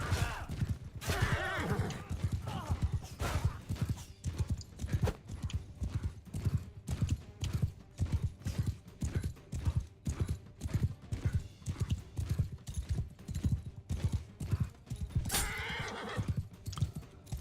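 Rapid, rhythmic hoofbeats of a galloping horse in the medieval combat game Mount & Blade II: Bannerlord, steady clip-clop pulses at close range, with occasional whinnies and battle noise in between.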